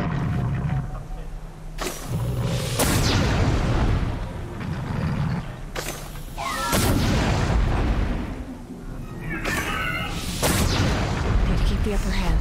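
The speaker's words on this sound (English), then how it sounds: "Let me shoot it with the cannon." Cannon shots in the video game Horizon Zero Dawn, several loud booming blasts spaced a few seconds apart over game action, with a person talking in between.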